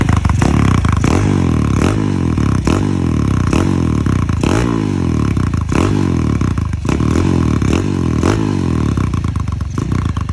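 Motorcycle fitted with an aftermarket SC muffler, revved up and down repeatedly in loud rising and falling surges with a crackling, burbling exhaust note, close by and with no talking over it.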